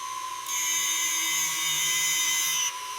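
High-pitched power tool whines steadily for about two seconds, close and loud, as it strips heavy rust from an abandoned classic car, with quieter background before and after.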